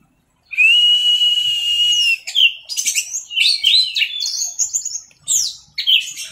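A red-flanked bluefly sings loud and close, a long steady whistled note followed by a rapid run of varied chirps, trills and sliding whistles, alone without talk.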